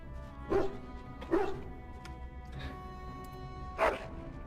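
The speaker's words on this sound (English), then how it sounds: "Hello, dog." A dog in the video game Dragon Age: Origins barks in three separate sharp yaps spaced a second or more apart, fairly close and clear over a low ambient game backdrop.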